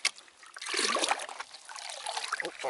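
Water splashes and trickles as it is poured from a pail into the primer of a scrapyard water pump, an uneven gurgling flow that swells and fades over a couple of seconds, fairly close.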